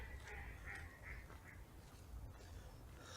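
Ducks quack among trees while birds are fed outdoors, a few faint nasal quacks repeating over a low background hum with distant bird sounds and no talk.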